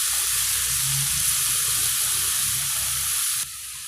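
Broad beans sautéing in a pan, a loud, steady sizzle with a faint stirring scrape underneath, briefly dropping in level near the end, with no talk.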